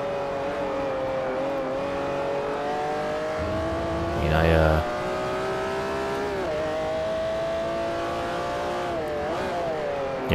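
A Ferrari supercar engine in Forza Motorsport 4 drones at high revs with steady harmonic tones, with a brief louder rasp midway and rising pitch shifts, under a voice.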